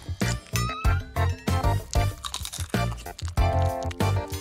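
A KitKat chocolate wafer is crunched and chewed up close, with a steady run of crisp, crackly bites and chews repeating over about four seconds and no talk.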